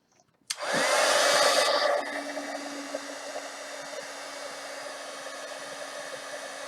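Heat gun blasting hot air across wet paint: a sudden loud broadband rush that starts abruptly, holds steady, then drops to a lower, softer continuous whoosh for the rest of the span.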